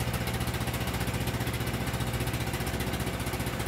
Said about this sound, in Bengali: আমরা এখন আমাদের ট্রলার সামনের দিকে নিয়ে যাচ্ছে।